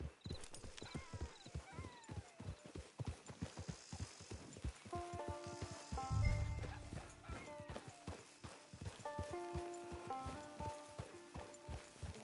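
Steady clip-clop of horse hooves on hard ground in Red Dead Redemption 2 Online, rhythmic and close, with a brief low rumble midway and faint musical tones underneath.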